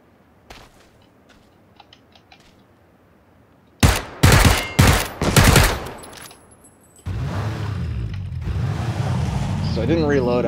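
Rapid automatic gunfire in PlayerUnknown's Battlegrounds shooting out a car tire, a few loud close bursts in quick succession, followed by a steady engine drone, with a voice talking at points.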